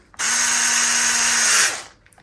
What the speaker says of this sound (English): Remember with the cordless drills,